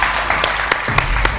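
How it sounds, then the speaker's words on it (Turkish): A Turkish television studio audience claps loudly and continuously, a dense burst of close applause filling the whole short moment with no voices over it. "Hadi alkışlar."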